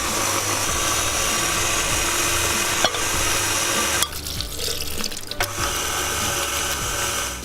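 Electric mixer on low speed beating cake batter for a strawberry shortcake as spoonfuls of flour are added: a steady loud whirring churn with a gear-like rattle, briefly dipping once midway before resuming.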